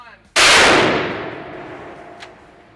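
A single loud rifle shot as a 150-grain hunting bullet is fired into a gel block: a sharp, cracking blast that rings out and slowly decays.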